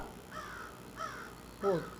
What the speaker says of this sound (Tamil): என்னடா காக்காலாம் கத்துது.